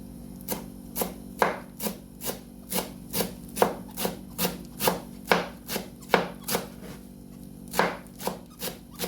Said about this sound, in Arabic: حبلش افرم كمان البقدونس لحضر التبولة